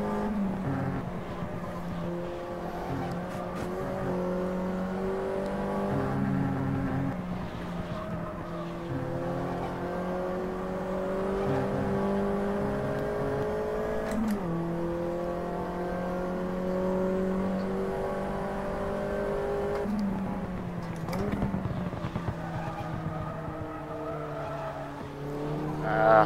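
Front-wheel-drive Mini race cars howl around the Campo Grande circuit, engines droning and shifting pitch continuously for the whole stretch, with tyres squealing and skidding as they slide through corners.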